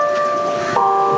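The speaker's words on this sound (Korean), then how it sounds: "종이 울리고 있어." A bell rings at a colonial-era square in Melaka, Malaysia, beside a Queen Victoria fountain. Sustained, ringing tones hang steadily, then a fresh strike near the end renews the ring.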